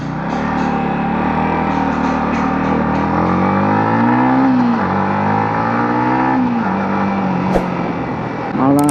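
A Yamaha MT15 V2 motorcycle is ridden and swings through a U-turn, its engine a loud, close, continuous drone whose pitch sinks then rises again as it slows and pulls away, over steady wind rumble.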